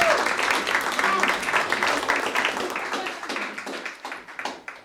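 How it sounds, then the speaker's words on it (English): Audience clapping at a tech event, a busy burst of many hands that thins out and tapers off over several seconds, with some voices mixed in. "or just go ahead and clap"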